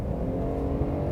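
A 2022 Kia K9 sedan with a 3.3-liter twin-turbocharged V6, driven in comfort mode, gives a steady, low, smooth engine drone heard from inside the car, with no talk over it.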